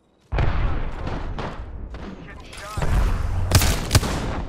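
Gunfire in an Apex Legends match, with loud bursts of shots and booming impacts starting abruptly and continuing in clusters, a sharp crack near the end, with voices and game callouts mixed in.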